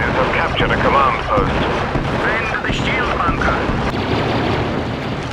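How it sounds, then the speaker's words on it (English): Dense, continuous booming blasts and rumbling explosions in the video game Star Wars Battlefront, loud and chaotic, with a few sharper bursts rising out of the din. "The explosions were big and fiery."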